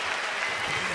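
A short burst of clapping from an audience gives a round of applause, a dense steady patter throughout.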